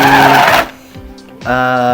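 A meat chopper grinding sacrificial beef with ice runs with a loud, harsh motor whine, stops briefly into near quiet, then starts up again with a strong humming drone.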